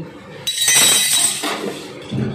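A metal pan lid comes off a hot pan on a kitchen stove, giving a sudden bright clattering, ringing clink that fades over about a second, with a few smaller scraping touches after.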